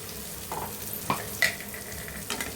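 Salted, turmeric-seasoned ingredients fry in a pan for egg kottu parotta, a soft steady sizzle with a few sharp utensil scrapes and taps, close up and without speech.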